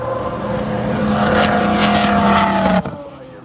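A Mazda 767B race car at a historic motorsports reunion roars past as a loud, steady engine drone that swells, then cuts off sharply near the end, with no one speaking.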